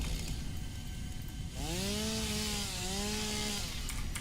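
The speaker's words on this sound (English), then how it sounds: "And obviously a chainsaw." A chainsaw in a video game roars up partway through, its engine pitch sliding and wavering under a harsh, buzzing rasp that runs to the end, loud and alone.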